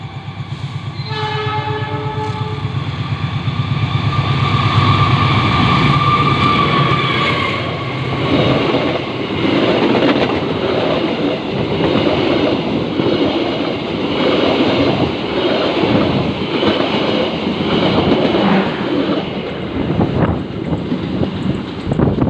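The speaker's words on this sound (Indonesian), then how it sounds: "Sebentar lagi kereta api Kahuripan akan melintas langsung ke stasiun ini ya." A train horn blares loudly, then the rumbling, clattering roar of the Kahuripan passenger train passing straight through a station fills the air continuously at close range.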